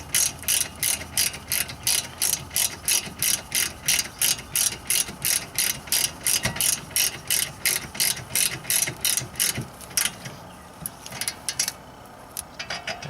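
Hand ratchet clicking in rapid, regular bursts up close as the brake caliper bolts on a BMW E36 are tightened, the strokes becoming sparser and slower toward the end.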